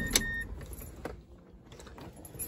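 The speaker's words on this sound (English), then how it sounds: "cut the car off" A 2011 Mazda CX-9 is switched off with the key, marked by a short metallic key jingle and click at the start, followed by quiet cabin ambience with faint soft clicks.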